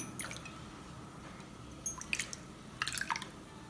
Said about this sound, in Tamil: இந்த டம்ளரில் நான் எடுத்துக்கிறேன்.